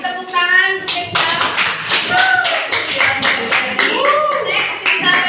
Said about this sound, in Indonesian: Beri tepuk tangan untuk Kesha.